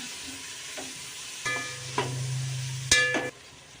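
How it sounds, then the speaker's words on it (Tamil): Onions fry in oil in a pot for chicken biryani while a spoon stirs, giving a steady sizzle broken by three or four distinct scraping strokes, close and fairly loud with no voices. "நல்லா கிண்டி விட்டுருங்க"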